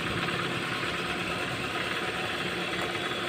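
Car engine idling steadily with the battery's negative terminal disconnected, a constant low hum and rumble throughout, no voices.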